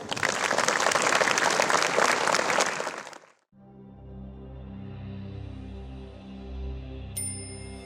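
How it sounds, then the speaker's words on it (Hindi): An audience claps for a student troupe after a dance drama, dense applause for about three seconds that cuts off abruptly, leaving soft sustained music tones. "आइए हम इस नृत्य नाटिका प्रस्तुत करने वाली छात्र छात्राओं की मंडली को तालियों की गड़गड़ाहट से प्रोत्साहित करें"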